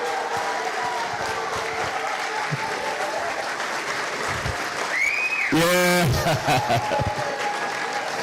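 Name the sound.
audience applause for spoken word artist King B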